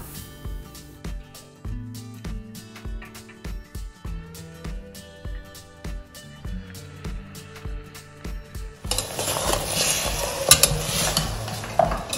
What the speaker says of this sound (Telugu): 1 టీ స్పూన్ పసుపు వేసుకొని మిక్స్ చేసేసుకుందాం.